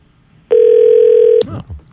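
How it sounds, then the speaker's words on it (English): A telephone dial tone on a radio call-in line: a single loud, steady electronic tone holds for about a second, then cuts off abruptly, followed by faint line noise. "Oh, okay. Dial tone."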